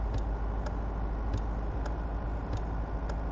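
Road traffic in Truck & Logistics Simulator: a steady low engine and tyre rumble with periodic faint ticks, continuous and close, with no talk.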